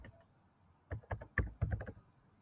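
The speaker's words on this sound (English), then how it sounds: "Can you see what I'm typing here?" Typing on a computer keyboard while entering Python code, a quiet pause followed by a short burst of close, crisp key clicks in quick irregular succession.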